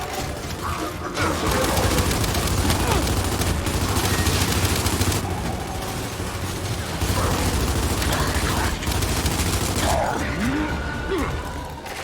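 Gunfire and a frag grenade blast in the video game Gears 5, dense continuous shooting and impacts filling the scene at a steady loud level with brief dips, as a voice calls out over the combat.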